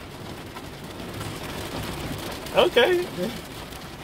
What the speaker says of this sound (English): We're sitting in the back while it's raining.